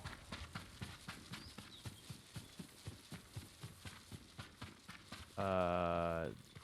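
Steady, rhythmic horse hoofbeats from the video game Ghost of Tsushima clip-clop at a trot close by, then the horse whinnies loudly near the end.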